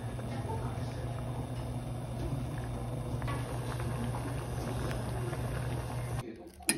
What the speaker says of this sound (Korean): 4, 5분 정도 끓이면 되죠.